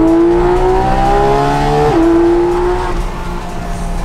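A Porsche GT3 RS engine roars loudly and close, its pitch stepping down sharply as it downshifts, then droning on at a lower tone.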